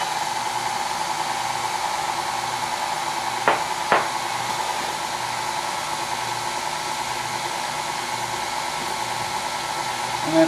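Electric mixer whirring through pumpkin chocolate chip cake batter, a steady continuous drone with a couple of brief knocks against the bowl partway through.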